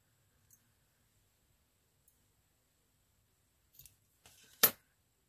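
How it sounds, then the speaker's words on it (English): Scissors snip paper in a quiet room, with a few faint handling ticks, then a couple of small cuts and one sharper, louder close snip near the end. "I think if I cut that in half. Let's have a look and cut that in half again."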